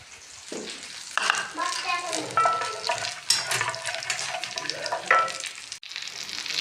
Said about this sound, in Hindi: तो ये हमने घी डाल के इसमें थोड़ा सा ज़ीरा डाला है, हम हल्का सा ब्राउन करेंगे।